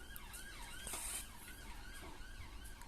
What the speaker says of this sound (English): ambulances, just in case you didn't hear that